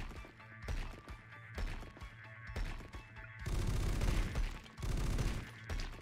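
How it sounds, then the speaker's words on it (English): Minigun turret firing in the tower defense game Polycore Defense, rapid bursts of gunfire that stutter on and off, then swell into a dense, sustained barrage. "Minigun"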